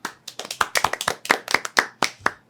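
Hands clap in a quick, slightly irregular run of about a dozen sharp, close claps during a podcast recording, with no talking over them.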